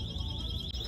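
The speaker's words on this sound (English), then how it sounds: "These alarms" A steady, high-pitched electronic alarm tone rings continuously inside a Ross Dress for Less clothing store, holding one unbroken pitch over a low background hum of the shop.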